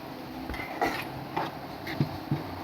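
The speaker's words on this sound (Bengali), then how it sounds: "ভালো করে নেড়ে দেব।" A curry with added water being stirred in a cooking pot, soft scraping and a few light metallic clinks of a spoon against the pot, quiet and intermittent.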